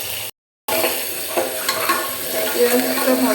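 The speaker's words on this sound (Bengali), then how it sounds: "ভালো করে ভেজে নিই," Spice-coated meat fries in hot oil in a pressure cooker while being stirred, giving a loud, continuous sizzle with scraping stirs; a brief silent gap comes near the start.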